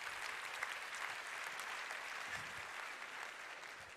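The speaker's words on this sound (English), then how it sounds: "Please give yourselves a round of applause." An audience at a live SXSW futurist talk on AI-powered companies applauds steadily for the full stretch, a dense, even wash of clapping with no voices over it.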